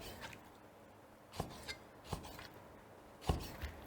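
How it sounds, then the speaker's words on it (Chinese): Knife slicing pig liver crosswise on a cutting board, a few soft, quiet taps and scrapes at irregular intervals against a faint background. "说白了就是横着切猪肝，特别简单。"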